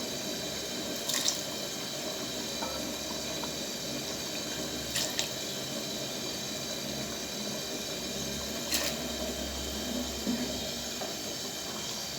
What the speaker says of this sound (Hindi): आप अपने अंदाज़े के इसमें पानी ऐड कर लें